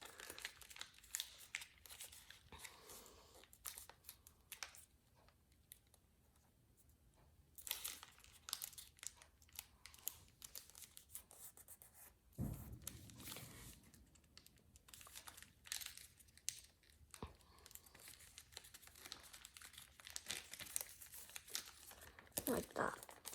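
Origami paper being folded and creased for an F-35 Lightning II model, with close, quiet crinkling and sharp crisp rustles in irregular bursts separated by near-silent pauses.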